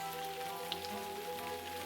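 A rain sound effect from a children's story about a small bumblebee flying out into a storm: a steady, dense patter of rain, alone and without speech, over a soft, sustained tonal bed.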